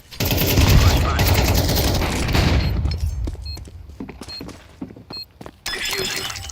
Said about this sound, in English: Grenade out. Flashbang.